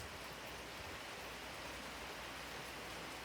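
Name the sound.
rain falling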